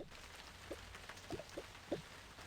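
Rain in the Toca Life World video game: a faint, steady patter with soft, sparse droplet taps standing out at irregular intervals, quiet and alone without talking.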